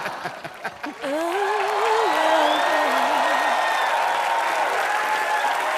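Loud, sustained applause from a crowd, with cheering and a voice rising over it after a brief quieter opening.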